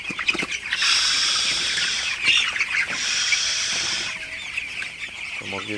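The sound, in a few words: broiler chickens clucking at night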